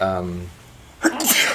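A person sneezes once, sharply and fairly close, right after a voice trails off at the start.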